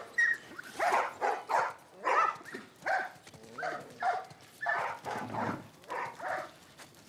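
Several dogs bark in a video game set in The Last of Us Part 1, with short sharp yaps arriving in quick irregular bursts at close range, a few whimpers mixed in and no talking over them.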